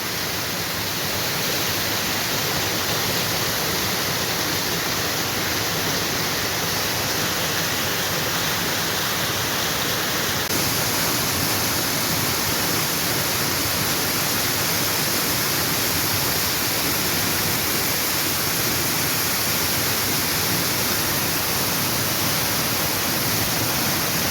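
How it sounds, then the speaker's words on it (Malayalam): A continuous, dense roar of a waterfall rushes steadily throughout, loud and unchanging, with no voices. "സുഹൃത്തുക്കളെ അത് സൂപ്പർ വെള്ളച്ചാട്ടമാണ്"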